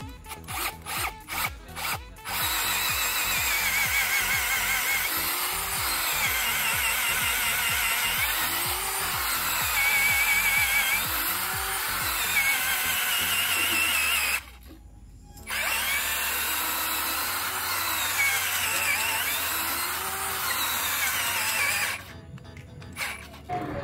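A cordless brushless impact drill with a 25 mm bit bores steadily into wet wood with a grinding, rasping whine, running nearly nonstop with two brief pauses before starting up again.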